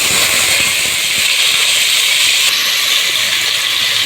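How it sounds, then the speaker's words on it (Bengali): Chopped onions frying in deep hot oil with salt, with earlier whole spices and dried red chillies, for a Bangladeshi chicken kala bhuna; a loud, steady, close hiss of bubbling oil runs unbroken throughout. "এখন এই পেঁয়াজটা ভাসতে ভাসতে বেরেস্তা করে ফেলতে হবে"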